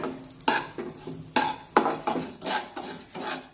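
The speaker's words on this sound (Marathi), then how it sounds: "मंद आचेवर ही भगर छानपैकी भाजून घेऊया" Barnyard millet (bhagar) is stirred in a pan over a low flame, a spoon scraping the grains in about nine rhythmic strokes, each a gritty rasp, close and clear with no talking.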